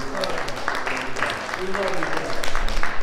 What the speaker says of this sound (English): just give them a great big hand clap.